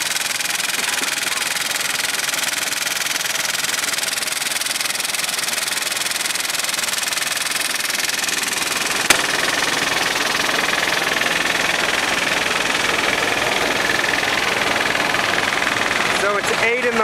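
Engine of an olive harvest truck machine running during the December harvest in Muro Leccese, a steady droning rumble with a rubbing, grinding texture throughout, close and continuous.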